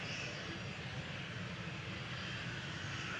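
Finnair Embraer E190 jet at Manchester Airport, a steady, loud engine roar and broadband rush holding evenly throughout, with no voices over it.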